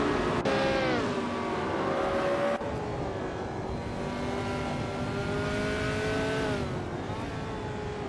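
A 1968 Eagle Mark 5 race car engine in a racing video game drones loud and steady, its harmonic whine rising and dipping with gear shifts and a brief cut near the middle, running continuously without talk.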